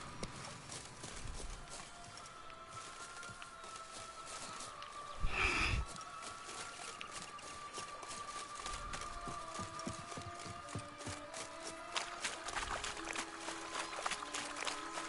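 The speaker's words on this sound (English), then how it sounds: "I'm trying to get on the horse." Horse hooves clip-clop in The Witcher video game, a quiet steady patter of hoofbeats under game ambience and tonal music, with a brief loud thud near the middle and no talking.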